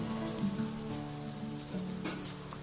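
Leftover idli fingers fry in oil over a medium flame, giving a steady, close sizzle with faint crackles throughout and no talk.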